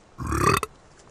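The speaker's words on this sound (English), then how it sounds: "He burped, and his burp shook the throne of the king." A single loud, close burp, short and throaty, followed by quiet.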